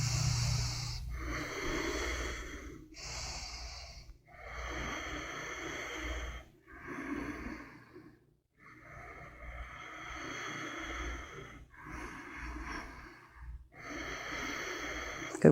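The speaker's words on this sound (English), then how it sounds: "Good, one more big inhale." Deep yoga breaths during hatha standing poses, slow audible inhales and exhales alternating in long, breathy swells with short pauses between them, close and fairly soft, with no talk.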